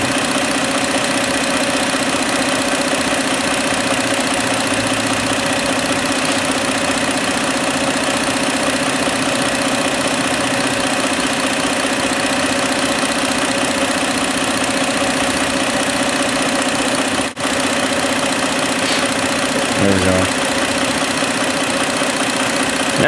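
A car engine idling steadily in a fuel-trim diagnostic session: a constant, loud droning hum with an even low rumble, unchanging throughout, with a brief faint knock near the end.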